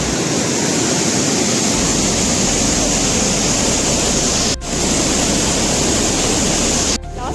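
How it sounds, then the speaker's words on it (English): Waterfall near its source on the Rupin Pass trek in Himachal Pradesh, a loud, continuous broadband roar of falling water that fills the whole stretch without pause, heard close with no voices. "we went in to see the waterfall source"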